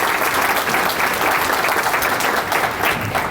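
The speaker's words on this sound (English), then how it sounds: "So let's give a round of applause again." An audience at a high school distinguished alumni awards ceremony claps in steady, dense applause, loud and continuous throughout with no speech over it.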